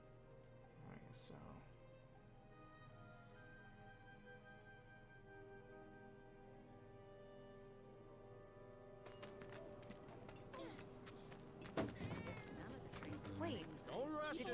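A cat meows nearby in the Final Fantasy 7 Remake video game, faint and brief against a soft bed of game ambience and sound effects.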